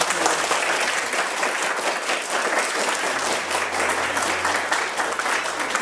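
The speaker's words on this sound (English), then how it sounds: "Can we give Miss Wagner a clap?" Steady applause from a school crowd at a poetry festival, dense and sustained clapping throughout, fairly loud and close.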